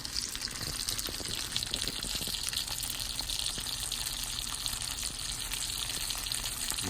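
A two-pound porterhouse steak sears in a hot pan, giving off a loud, dense, continuous sizzle that holds steady without pause and with no speech.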